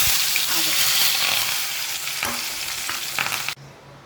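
Onion, tomato and curry leaves hitting hot oil for an okra bhaji give a loud, steady, crackling sizzle with spatula knocks and stirs. It stops suddenly, leaving quiet room tone.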